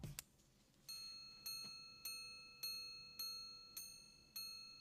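A watch chimes seven clear, bell-like strikes at an even, unhurried pace. The tones are faint and each one rings out and decays before the next.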